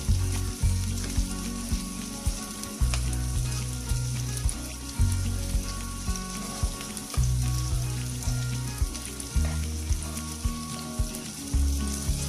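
Köfte meatballs fry in a pan with a steady, close sizzle, broken by regular soft thumps as each one is set down or moved.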